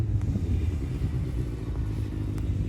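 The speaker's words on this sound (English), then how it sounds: "Some guys on a motorcycle over here." A motorcycle rumbles steadily at moderate distance during a summer thunderstorm afternoon, a low engine drone with faint clatter and no voices.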